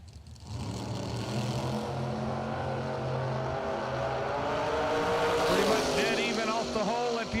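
A Corvette and a Fairmont run a radial drag race at a strip, and a loud sustained engine roar holds steady throughout, rising into a higher-revving scream near the end as the cars pass.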